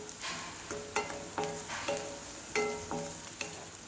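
Onion and tomato with a pinch of salt sauté in a pan, a soft sizzle punctuated by repeated ringing clinks and scrapes of a utensil stirring against the metal, close by.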